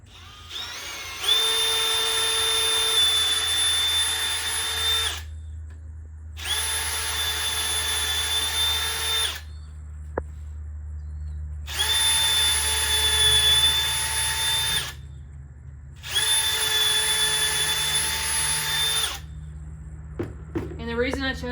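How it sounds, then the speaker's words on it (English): A power drill pre-drills wooden pieces for a dog house in four long, whining bursts separated by short pauses, with a low steady hum underneath. "I am going to pre-drill this, so that's what we're going to do now."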